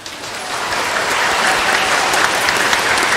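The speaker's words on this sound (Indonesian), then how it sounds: "Bagus, sebuah tepuk tangan." Steady applause from a group, a dense wash of clapping that holds at an even level for a few seconds with no pauses.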